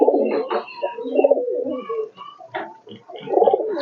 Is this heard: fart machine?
no